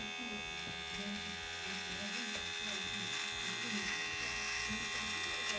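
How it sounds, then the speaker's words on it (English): A Manspot electric body trimmer running continuously as it shaves leg hair, a close, steady high buzz with a slightly fluctuating motor tone under faint background sound. "We're going to turn it on, and let's start shaving this a little bit."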